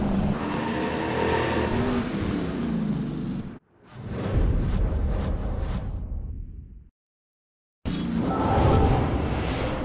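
Cars racing at high speed in the Driver San Francisco video game, engines roaring loud and close, cutting out abruptly twice with a stretch of near silence before the roar returns.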